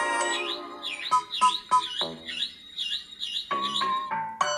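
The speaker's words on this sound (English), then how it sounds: "There's a button on its back, so when you press it, it chirps." A toy bird chirps when the button on its back is pressed, giving a run of bright, repeated electronic tweets and whistles, close and fairly loud, with no talking.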